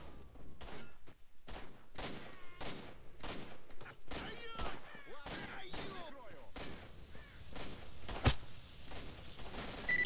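Gunfire in the shooter game S.T.A.L.K.E.R.: about a dozen sharp shots crack out at irregular intervals, some near and loud, others quieter, with faint sweeping tones and murmured game voices between them.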